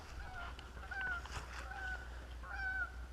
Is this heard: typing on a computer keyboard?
no